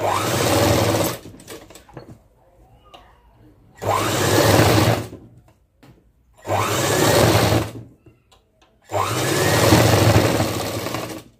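A sewing machine stitches frock sleeves to the shoulders in four sustained bursts of rapid, buzzing mechanical whir, separated by short quiet pauses with faint handling sounds of cloth.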